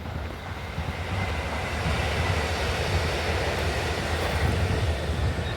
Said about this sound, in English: here goes a train